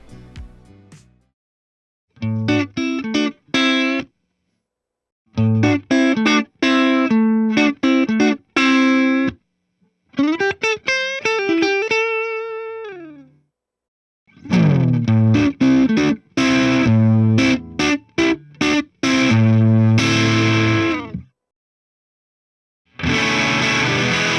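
An electric guitar runs through a Fender Tone Master Pro, first as clean picked phrases and chords and then as crunchier driven riffs. The playing comes in short bursts separated by silences, close and loud, with no talking.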